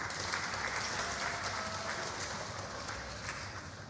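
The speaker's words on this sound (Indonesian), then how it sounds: "tepuk tangan dulu deh, tepuk tangan dulu." A church congregation applauds during an Indonesian sermon on the Holy Spirit, a dense, steady wash of clapping from a crowd that holds at a fairly even level for the whole stretch, with no talk over it.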